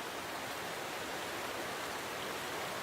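Water from an underground river bursts out of the darkness into rushing torrents, a dense, steady roar of gushing water, loud and unbroken with no voices.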